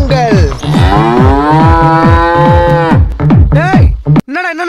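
A cow moos loudly and close in one long, drawn-out bellow with a repeating rhythmic sound underneath, followed by a shorter moo near the end.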